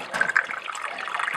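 Water runs steadily into the wheel of a water-driven clock, a soft continuous trickle and splash that stays close and even for the whole moment, with no voices.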